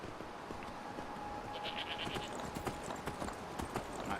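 In the game Enderal, a ridden horse's hooves keep up a steady clip-clop beneath a bright outdoor ambience that includes some bleat-like animal calls, a moderate and continuous patter with no voices.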